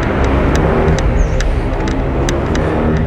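Car engine laboring steadily in first gear up a steep mountain road, a loud constant drone with some faint clicks and rattles over it.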